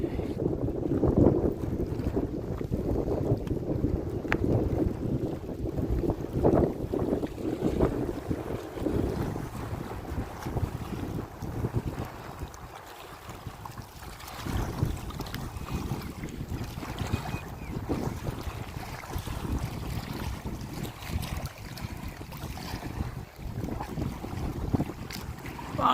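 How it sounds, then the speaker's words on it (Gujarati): Choppy water surges and slaps in a dam reservoir under a steady roar of wind buffeting the microphone, continuous and close throughout with no talking. "બીક લાગે હો ભાઈ, એવા હિલોરા મારે છે."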